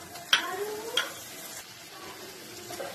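Ginger and green chili paste stirred in a pan with garlic, giving a soft steady sizzle under a few sharp scraping clicks of the spoon against the metal, fairly faint and without talk.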